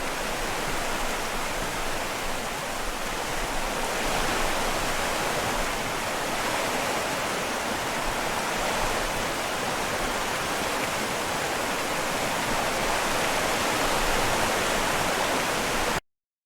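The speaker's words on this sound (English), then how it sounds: "These two together, they can make up a really lively audioscape for your river." Steady, dense rushing water from river audio emitters in a Unity river tool, a continuous broadband flowing ambience like a stream or small waterfall, moderately loud and unbroken, with no voices.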